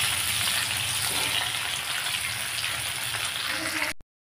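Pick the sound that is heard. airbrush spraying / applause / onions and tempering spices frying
onions and tempering spices frying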